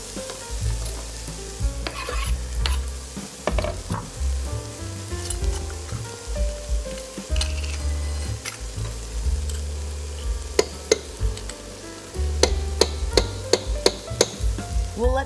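Chopped vegetables with garlic and tomato paste sauté in a pot for minestrone, a steady sizzle broken by repeated scraping stirs and clinks of the spoon, close and moderately loud with no voices.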